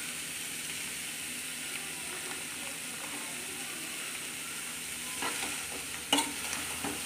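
Beetroot stir-frying in a pan with salt gives a faint, steady sizzle under a soft background hiss, with a few quiet scraping stirs near the end and one sharper clink.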